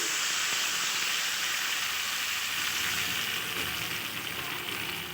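Water is poured into a pan of fried spice paste, producing a loud, continuous steamy hiss and sizzle that holds steady from start to finish.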